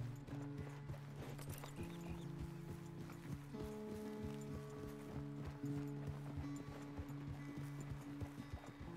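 A horse walks at an easy pace, its hooves clip-clopping in a steady, fairly faint rhythm against a background of sustained tonal music.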